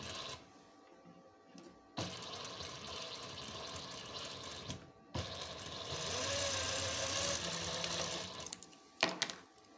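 A sewing machine stitching a garment lining, running in a close, steady mechanical whir with quick rhythmic needle clatter, stopping briefly twice and then resuming.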